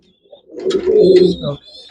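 A racing pigeon gives one loud, close coo, a low throaty burst of about a second with brief quiet before and after.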